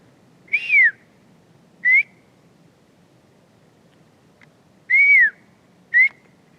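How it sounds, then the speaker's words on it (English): A person whistles toward deer in a quiet outdoor setting: four short, clear whistled notes, two pairs each made of a longer falling note followed by a brief rising one, over faint rustling background. "See if they react to my whistle."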